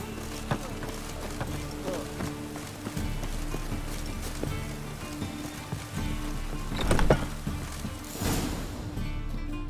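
Roach, Geralt's horse in the video game Witcher 3, trotting with steady clip-clop hoofbeats over a rain-like ambient bed, the rhythm slowing toward the end.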